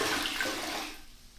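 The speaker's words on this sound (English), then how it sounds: "Just wringing it out in the bucket." A wet grouting sponge being wrung out over a bucket of grout water: a soft, close splash and trickle of water that tapers off over about a second, with no voices.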